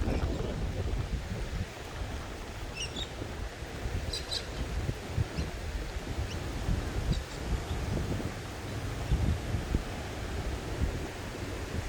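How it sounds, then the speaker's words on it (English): Steady wind gusts roar across an outdoor disc golf course in Adelaide, South Australia, buffeting the microphone with low rumbling noise throughout, with faint higher rustles and a few brief chirps above. "So wind's gusting high"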